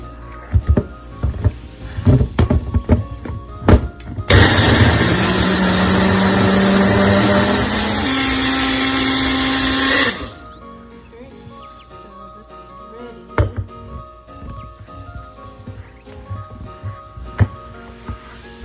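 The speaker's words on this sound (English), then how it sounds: "All right, let's go ahead and blend it." A personal blender blending berries roars for about six seconds with a steady high whine, with clattering and handling noises before and after.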